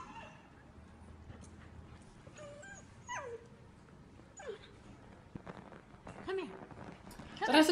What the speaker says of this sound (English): The husky puppy.